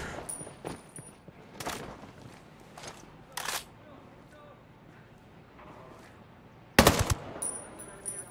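Machine gun firefight in Ghost Recon Breakpoint: scattered bursts of rapid fire, with the sharpest and loudest burst near the end. A voice talks between the shots.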